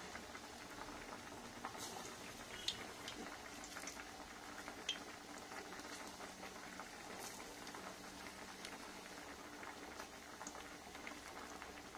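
Small mint leaf pakoras frying in hot oil, a quiet continuous bubbling sizzle with faint crackles, fairly low in level and steady throughout.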